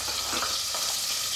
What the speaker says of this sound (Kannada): 2 ಈರುಳ್ಳಿನ ಸಣ್ಣದಾಗಿ ಹಚ್ಚಿಟ್ಕೊಂಡಿದ್ದೆ ಈರುಳ್ಳಿನ ಹಾಕ್ತಾಯಿದ್ದೀನಿ